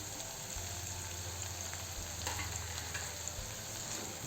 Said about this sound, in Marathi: एक मिनिट असंच फिरव, कलर बदलतपर्यंत कांद्याचा।